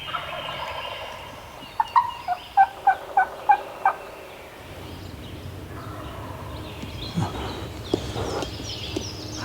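A wild turkey gobbler in spring season hunting country gobbles in a quick series of about six sharp calls, moderately distant, followed by a few fainter gobbles later, with no talk over it.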